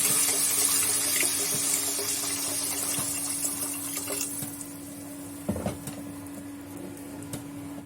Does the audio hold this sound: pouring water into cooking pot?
yes